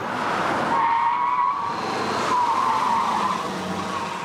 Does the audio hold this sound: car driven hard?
yes